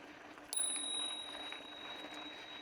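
A bicycle bell rings once during a ride, a bright metallic ding that lingers as a thin fading tone over steady road and wind noise.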